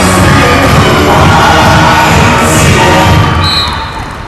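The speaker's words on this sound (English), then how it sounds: "You'd think it was the other way round with the noise the crowd are making" Loud, dense roar of a crowd cheering and shouting throughout at a men's handball match between Ireland and Norway, sustained and close before easing slightly at the end.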